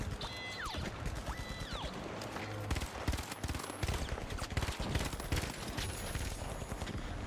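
Dense, continuous automatic fire from a turret in the online shooter game The Finals, loud and close, with rapid overlapping shots and some mechanical whirring throughout.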